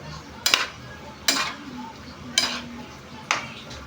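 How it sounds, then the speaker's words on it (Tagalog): Octopus pieces are stirred in a metal cooking pot, with four sharp, evenly spaced clanks of a utensil against the pot and quiet scraping and faint sizzling in between. "haluin natin siya guys. Ayan. Haluin natin ng bahagya"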